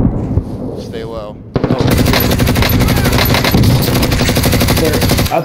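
Sustained rapid machine-gun fire fills a Call of Duty Modern Warfare 2019 match, loud and dense after a short pause, with a voice speaking briefly just before the shooting starts.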